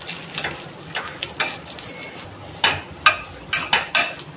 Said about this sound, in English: After 2 to 3 minutes, take it out and turn it.